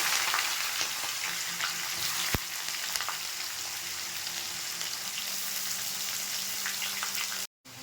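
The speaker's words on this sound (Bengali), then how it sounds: "এই তেলে গোটা মশলাটা দিয়ে দিচ্ছি, তেজপাতা দিয়ে দিচ্ছি, পেঁয়াজ কুচিটা দিয়ে দিচ্ছি।" Whole spices, bay leaf and chopped onion frying in hot oil for an egg curry, giving a steady, dense sizzle close up with a few small pops and one sharp tap partway through.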